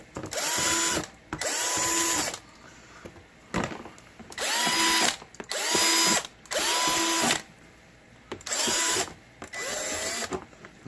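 A power drill bores holes into a plastic tub being made into a gecko enclosure, running in about eight separate loud bursts with a rising whine at each start and short pauses between them.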